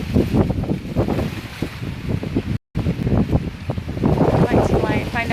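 Outdoor wind in Apalachicola buffets and rushes across the microphone in gusty, rumbling bursts, with a brief dropout midway and no clear talking.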